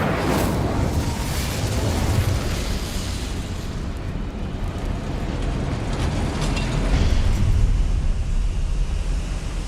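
The Incendio fire spell in Hogwarts Legacy gives off a steady, loud roaring rush, like a blaze or eruption. It swells slightly near the end and carries no voices.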